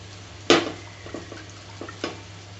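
Marinated chicken for a chicken kulambu dropped into a pan with a sharp clatter, followed by a few softer scraping stirs and faint frying, no talking.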